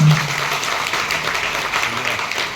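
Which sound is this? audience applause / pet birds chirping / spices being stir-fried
audience applause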